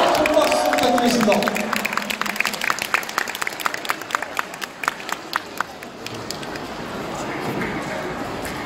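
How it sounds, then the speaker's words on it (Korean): Spectators clapping at a taekwondo demonstration team's board-breaking show, a burst of applause that thins into sharp separate claps and footfall-like hits, with voices present. "박수 부탁드리겠습니다."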